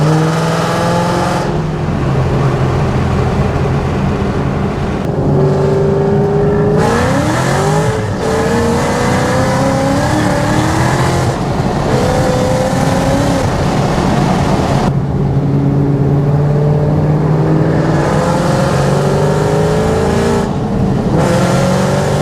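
Ford Shelby GT500 fitted with a Borla ATAK exhaust driving and revving, its loud engine note rising and falling through gear changes with rumbling surges and steady cruising drone, heard close and alone for over twenty seconds.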